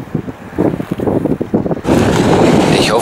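Strong wind buffets the microphone on a seaside pier, first in gusty bursts and then as a steady, loud roar.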